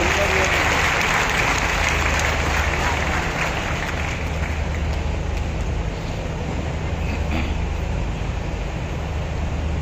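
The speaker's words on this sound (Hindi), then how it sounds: "जोरदार तालियों की आवाज के साथ" Audience applause welcoming a speaker at the 83rd Annual Session of the Indian Roads Congress in Raipur, Chhattisgarh: a dense, continuous wash of clapping from a large crowd over a low steady hum, lasting throughout.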